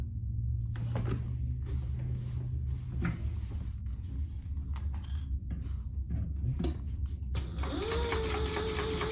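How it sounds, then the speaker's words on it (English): A sewing machine basting the flap of a crossbody phone bag in place, a steady mechanical hum with intermittent rattling stitches, close and continuous, with a brief higher whine near the end. "we're just gonna baste that in place"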